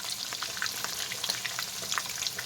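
Taco tortillas frying in warm oil, a steady close crackling sizzle with scattered sharper pops throughout, no voices.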